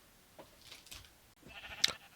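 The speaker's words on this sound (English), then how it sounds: "I've bred a bunch of sheep. Look at them all." Minecraft sheep bleating, a few short soft bleats spaced apart over a quiet background, the last one slightly louder and sharper.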